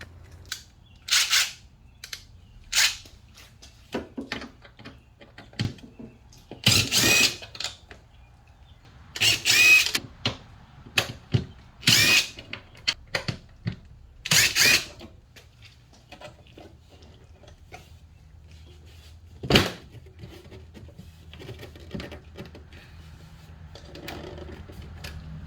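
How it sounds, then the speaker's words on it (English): Screws on a Kia Soul brake light assembly are worked loose, giving a series of short, sharp clicking and ratcheting bursts with pauses between them, close and fairly loud over a low steady hum. "There's 4 screws along here. It's going to unscrew those"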